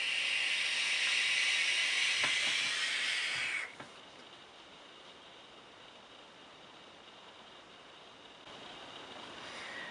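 An RDA vape atomizer fires a single coil at about 35 watts with full airflow and 70% VG juice, giving a loud airy hiss for several seconds that then drops to a faint, steady hiss.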